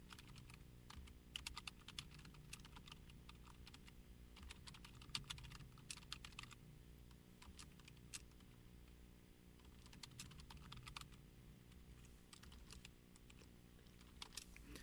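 Steady, quiet typing of code on a computer keyboard, irregular bursts of close key clicks running throughout with no talking.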